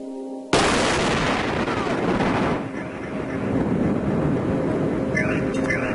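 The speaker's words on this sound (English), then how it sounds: "The booms created a mushroom cloud of frightening proportions" A large explosion erupts with a sudden loud boom, its roar and rumble sustained for several seconds as debris and the blast's aftermath continue to rumble and hiss, with faint voices beneath.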